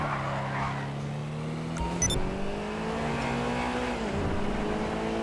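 Pegassi Toros car engine in GTA 5, a steady sustained drone with a rising tone that dips briefly and climbs again, close and continuous throughout with a few short high chirps in the middle.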